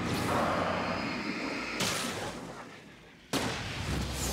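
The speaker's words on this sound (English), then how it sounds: "Oh, I didn't know that was the flare gun." A flare gun fires in the Alan Wake video game in a dark forest, giving two sharp, loud bursts about a second and a half apart, each with a hissing rush that fades out, and no voices.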